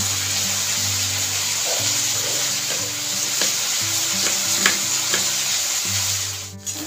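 Taro and potato pieces fry in oil, giving a steady close sizzle with occasional crackles and stirring clatter, and a brief watery splash near the end.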